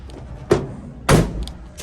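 Rear door of a Nissan NV200 van, with two sharp mechanical thunks about half a second apart from the latch and door moving, close and loud.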